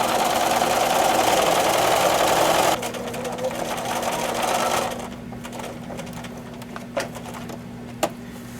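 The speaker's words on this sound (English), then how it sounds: "As you can see, I'm running the guide along the top stitches." A sewing machine stitches a quilted reversible placemat, humming in a loud, steady whir for about three seconds, then running quieter and stopping, followed by a few small clicks.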